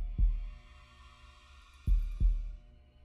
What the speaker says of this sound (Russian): Сердце бьется, когда он рядом.